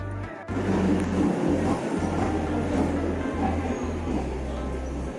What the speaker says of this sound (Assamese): এয়া আমাৰ ট্ৰেইন আহি পালে।